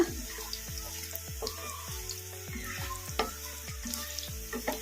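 Stuffed bitter gourds frying in a pan are stirred in steady, repeated scrapes, about one every half second, over a constant close sizzle.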